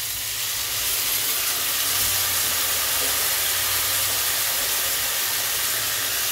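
A wet paste of ground coriander, cumin, chilli and turmeric sizzles in a hot pan for dal tadka, giving a loud, steady, bright hiss that carries on unbroken throughout, with no voices.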